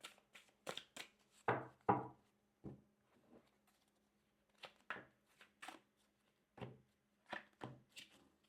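A deck of tarot cards is shuffled by hand at close range in quick, papery riffling bursts, some clustered and some spaced by brief pauses, with no talk.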